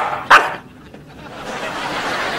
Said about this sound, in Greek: Κακό κορίτσι, μη γαβγίζεις, πάψε.